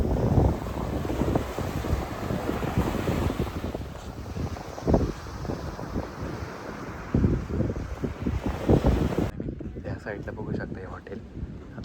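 Sea waves and steady wind at Khavane Beach in Vengurla on the Konkan coast, a continuous broadband roar with heavy wind buffeting on the microphone and faint voices, quieting briefly near the end.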